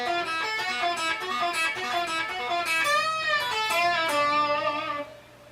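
An electric guitar lick from a guitar solo, a quick run of sustained, bending notes with bright harmonics, played alone and fairly steady in level before cutting off near the end.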